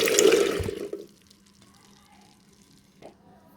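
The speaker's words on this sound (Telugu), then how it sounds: "ఉడికిన చనాను జాలి గంటలో వడపోసుకుందాం." Boiled chana poured into a strainer, a loud rushing splash of water and chickpeas that fades within a second, followed by near silence and one small clink.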